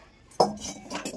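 Cooked patal chingri, pointed gourd with shrimp, being tipped from the pan into another dish: a single sharp metallic clink of the utensil against the vessel, followed by soft scraping and faint clatter, close and brief.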